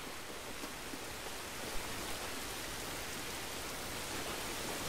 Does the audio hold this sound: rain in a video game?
yes